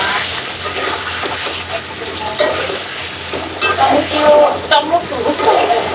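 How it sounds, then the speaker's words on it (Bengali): A spice masala with potato and tomato fries in a pan, cooking down for a fish curry, with a steady bubbling sizzle and louder stirring scrapes and splutters toward the end, no voices heard. "এইখানে কি সুন্দর করে আলু দিয়ে টমেটো দিয়ে কষানো হয়ে গেছে মশলাটা।"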